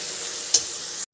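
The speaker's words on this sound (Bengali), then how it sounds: "এবার মশলাটাকে ভালো করে কষিয়ে নেব।" A spice masala of turmeric, salt and ground cumin sautéing in oil makes a constant close sizzle, broken midway by a single quick scrape of a stirring spoon, before the sound cuts off abruptly.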